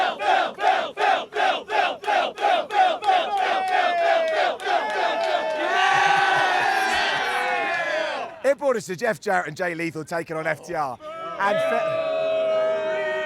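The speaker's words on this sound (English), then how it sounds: "Why are we booing?" Crowd at a wrestling event booing in rhythmic waves, then swelling into a sustained roar with scattered shouts, while someone speaks over the noise near the start and again toward the end.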